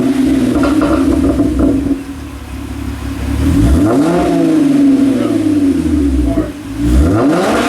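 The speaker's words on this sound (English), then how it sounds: "we'll do a quick exhaust shot real quick to show you what it sounds like before" A Hyundai Genesis Coupe 3.8L running factory pipes with Flowmaster 80 series mufflers idles close by, then revs in two rising and falling bursts with a deep, growling exhaust note.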